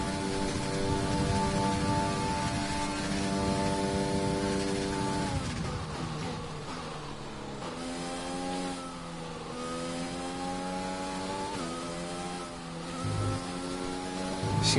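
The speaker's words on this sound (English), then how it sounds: "so hopefully that means the rain's reducing in intensity now" Rain hisses over a loud, steady F1 2020 racing car engine at Belgium in mixed wet conditions, the engine note holding high, dropping and shifting through gears, with no voices present.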